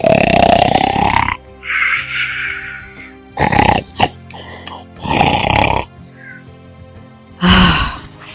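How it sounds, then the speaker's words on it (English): Loud, deep snores come in several long bursts separated by pauses, rattling and grumbling close by. "That was the sound of him snoring."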